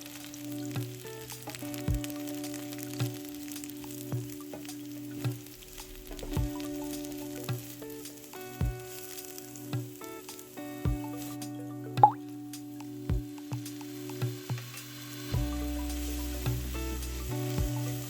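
Shiitake mushrooms frying with light soy sauce in a stir fry, a steady sizzle under repeated soft clicks and taps of stirring at a roughly regular pace, close by.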